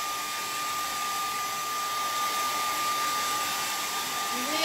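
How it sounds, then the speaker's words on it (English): A hair dryer drying paint on a painting blows with a steady, loud, breathy roar that runs unbroken from start to finish. "grab your handy-dandy hair dryer. We're going to dry it off."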